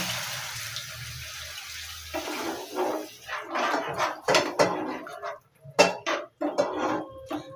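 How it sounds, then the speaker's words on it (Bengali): Water poured into a pot of curry whose spice paste has just been fried in oil, a splashing pour followed by clinks and scrapes of a spoon against the pot, close and fairly loud. "আমি 2 কাপের বেশি একটু জল দিয়ে দেবো।"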